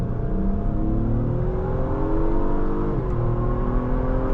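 A 2022 Acura MDX Type-S SUV with all-wheel drive and a 10-speed automatic accelerating hard, engine tone climbing steadily with a brief dip at a gear change, loud and continuous from inside the cabin.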